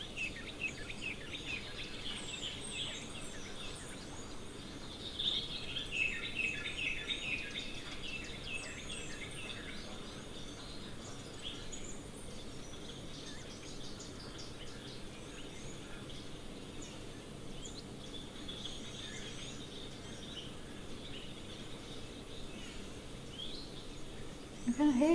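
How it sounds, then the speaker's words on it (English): Grey go-away birds call faintly in the distance around a waterhole, their chirps rising intermittently over a quiet bed of insect buzz, with a louder bump at the very end. "You can hear grey go-away birds calling in the distance"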